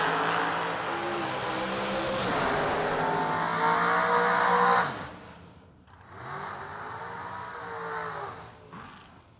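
A folk race car practicing on a track during a motorsports event, its engine roaring loudly and steadily before dropping off, then a second nearby pass revving up again and fading.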